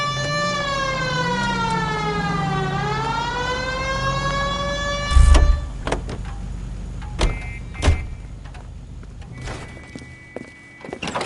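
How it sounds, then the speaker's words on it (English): A police car siren in the L.A. Noire video game wails with a steady rising and falling tone, then cuts off into thumps and short clunks of the car, loud and close with no talking. "Hit the siren."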